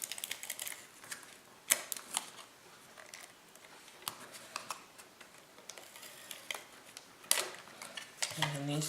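Cardstock tabs on a diagonal-close card box folded in by hand, giving sparse light paper clicks, creases and taps at close range, with a few sharper snaps and a brief rustle near the end.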